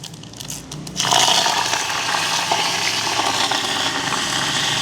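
Mustard seeds and fennel seeds dropped into hot oil for a village-style mango curry, a sudden loud hiss and crackle that bursts in after a second and keeps sizzling steadily.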